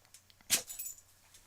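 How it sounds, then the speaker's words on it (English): One short, sharp dog sneeze bursts out of near silence, close and brief, followed by faint rustling. "And excuse my dog, he has to sneeze all over me apparently."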